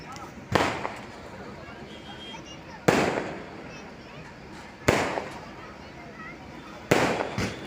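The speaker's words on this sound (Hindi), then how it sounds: "देखिए, ये रंग बिरंगी रोशनी और ये पटाखों की आवाज़" Fireworks and firecrackers burst at night in four sharp, loud, evenly spaced bangs, each trailing a short crackle, over a low background murmur of voices.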